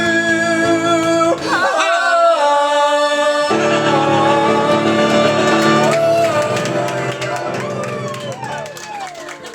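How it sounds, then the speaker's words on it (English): Piano bar on a cruise ship: sustained piano chords and notes ring over a busy background of crowd chatter and babble that continues throughout. "We were at the piano bar, which normally sounds like this."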